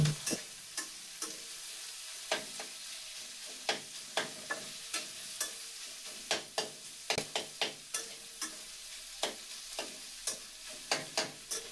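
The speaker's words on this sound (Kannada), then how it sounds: "ಒಂದು 5 ಮಿನಿಟ್ಸ್ ಫ್ರೈ ಮಾಡ್ಕೊಂಡ್ರೆ ಆಯ್ತು, ಆಗುತ್ತೆ." Food frying in a pan, a low steady sizzle broken by regular sharp clicks and taps of a utensil stirring against the pan, close and clear with no voices.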